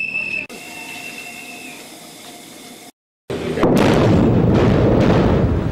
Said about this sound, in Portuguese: A explosão é como uma pancada seca no mundo ao nosso redor.